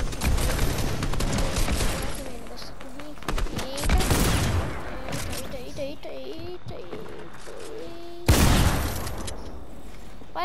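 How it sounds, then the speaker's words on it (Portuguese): Bursts of rapid automatic gunfire in the video game Fortnite, sharp loud volleys in several clusters, with a player talking over the quieter stretches between them. "Para de atirar, vocês estão na mesma equipe, ô crianças."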